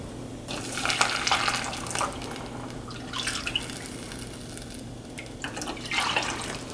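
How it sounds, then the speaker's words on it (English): Two cups of milk stream into a butterbeer mixture, a steady soft liquid pour with splashing and dripping swells, close and fairly quiet, with no talking. "So we're going to add 2 cups of milk."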